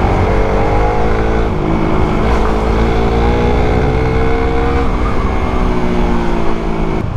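Suzuki Raider 150 F.I. motorcycle engine under heavy engine braking, a steady loud droning growl with shifting harmonic tones, continuous with no voices.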